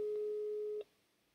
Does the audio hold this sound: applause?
no